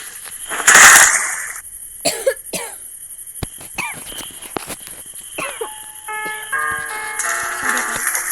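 A single loud burst of coughing near the start, followed by scattered clicks and handling noises and a faint tonal chime toward the end.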